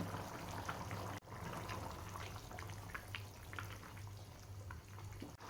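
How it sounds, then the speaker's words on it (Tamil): A pot of mutton curry bubbles and simmers at a steady rolling boil, a continuous watery gurgle with small pops, close and fairly quiet. "நல்லா கொதிக்குது"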